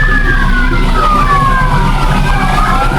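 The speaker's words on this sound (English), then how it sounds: "Finally, all is silent except the sirens." Several emergency vehicle sirens wail loudly together with overlapping rising and falling tones over a low rumble, continuous throughout.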